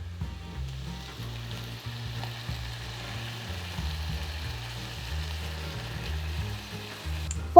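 Tomato pulp added to softened onions in a pan, giving a low, steady sizzle and bubbling close by, faint and continuous, with no talking.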